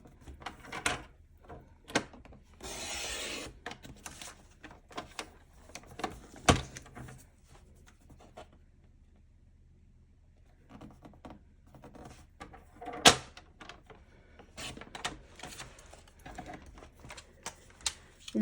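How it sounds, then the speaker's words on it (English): A cat batting at Venetian blinds in a home craft room, producing scattered clattering rattles and slats knocking, faint and irregular with quiet gaps and a few sharper clacks. "it's my cat playing with the Venetian blinds."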